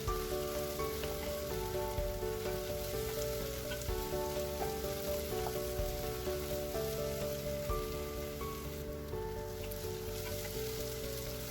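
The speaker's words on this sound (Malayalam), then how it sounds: "അപ്പം ഞാൻ ഇവിടെ ഉപ്പ് ചേർത്തിട്ട് നന്നായിട്ട് വഴറ്റട്ടെ." Onions and garlic sauté with salt in a pan for a Malabar-style Kerala chicken curry, giving a steady, close sizzle that runs throughout under a tonal musical layer.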